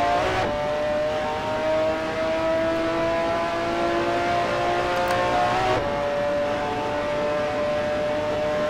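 A McLaren F1 GTR race car engine at Spa-Francorchamps in Assetto Corsa, one sustained loud drone with a steady pitch that shifts sharply near the end as the gear changes, close and continuous with no talk.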